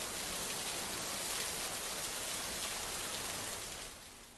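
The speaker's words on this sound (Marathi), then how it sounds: "मावळ चांदखेड गावात मुसळधार पाऊस पडतोय" Heavy monsoon rain pours steadily over Chandkhed village in Maval, a dense, continuous hiss of water close by that eases slightly toward the end, with no voices.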